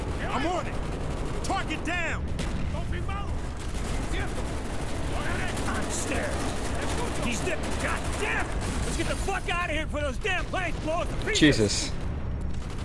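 Rapid bursts of gunfire fill a Call of Duty: Black Ops mission set at the Bay of Pigs, with dense shooting and chaotic battle noise running continuously while someone speaks over it and one brief louder impact near the end.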